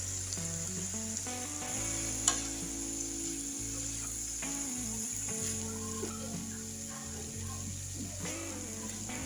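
Vegetables for a samosa filling softening in a pan over a flame, a soft steady sizzle sitting under a low hum, with an occasional utensil knock and faint background sounds.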